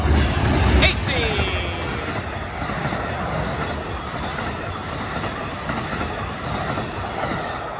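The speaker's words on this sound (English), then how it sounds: "Well, here comes Amtrak." An Amtrak passenger train rolls past nearby on its way to a West Palm Beach stop, a loud sustained rumble with rail clatter and a brief wheel squeal at the start, steady throughout.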